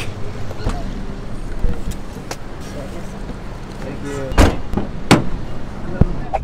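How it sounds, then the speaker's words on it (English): Street traffic in Yangon rumbles in a continuous murmur of passing vehicles. Sharp thumps and clacks cut through it, and voices talk over the noise. "Traffic."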